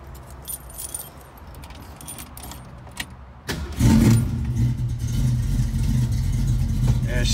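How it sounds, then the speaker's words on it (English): Keys jangle in a burst of light metallic clinks, then a car engine at a cars and coffee meet cranks and starts up, settling into a loud, steady idle. "fumbling for the keys"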